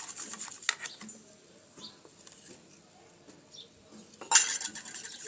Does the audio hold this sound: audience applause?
no